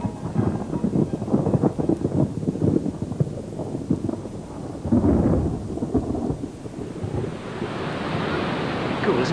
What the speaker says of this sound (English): Cool, listen to that thunder.